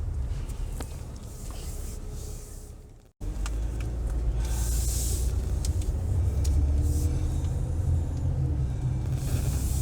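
A car drives along a road through The Villages retirement community in Florida, giving a steady low engine and tire rumble with road noise, briefly cutting out, then continuing at an even, close level.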